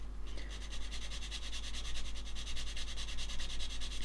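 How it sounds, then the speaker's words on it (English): A medium grit skinny sander rubs steadily along a seam on a plastic model kit, a close, continuous rasping scratch with quick back-and-forth strokes throughout, no voices. "This again is the medium grit skinny sander."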